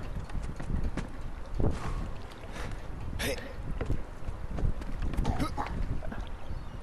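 Horse hooves clip-clop in a video game, a rhythmic run of hoofbeats mixed with a windy rush and some voices, moderately loud throughout.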